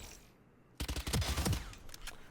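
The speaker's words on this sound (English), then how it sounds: "see how when I move around, my gun just sprays everywhere" Rapid automatic gunfire from a Valorant weapon sprayed while the player keeps moving: a dense, loud burst of shots that starts suddenly after a quiet moment and rattles on for over a second.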